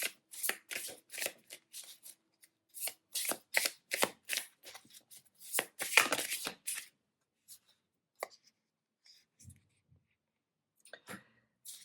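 Tarot cards shuffled and drawn by hand in quick bursts of riffling clicks and slaps, close and crisp, then thinning to a few isolated card snaps and taps.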